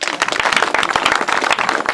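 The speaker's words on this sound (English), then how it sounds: "May we clap hands for the electricians" An audience claps for the electricians at a seminary grotto gathering, producing quick, irregular hand claps that stay loud and steady through the short stretch.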